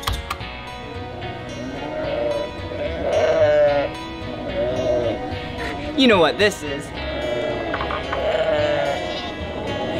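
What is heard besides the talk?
sheep bleating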